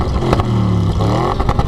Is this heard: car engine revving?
yes